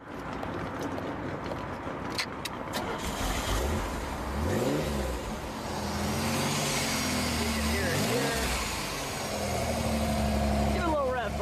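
Pontiac Fiero with an optional 2.8-liter V6 and multi-port fuel injection, its engine idling and then revving up and down in smooth swells, close and fairly loud, with people talking over it.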